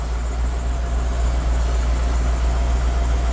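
A Nissan Navara D40 with a VK45DE V8 swap idles steadily at about 870 RPM, a constant low rumble with an even throb, close by and alone with no talk.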